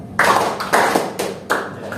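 Four separate hand claps from a classroom clapping game, each loud, close and briefly reverberant, spaced about half a second apart with no talk.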